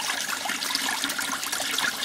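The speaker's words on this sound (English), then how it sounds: "this water is going around" Water swirls fast and steadily around a homemade blue bowl gold concentrator, a close, continuous rushing and trickling churn that holds even in level for the whole stretch with no voices.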